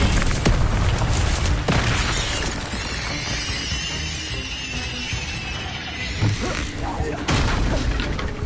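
Incendio fire spell cast in a Hogwarts video game: loud booming bursts and crackling flame whooshes with crashing impacts, over a dense game soundscape with voices.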